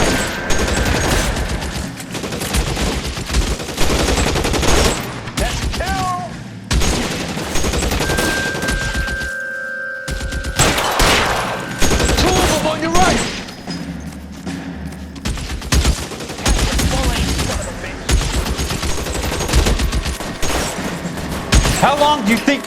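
Gunfight in the video game L.A. Noire, with sustained machine-gun bursts and single shots, brief pauses and thuds, loud and close, mixed with shouted voices throughout.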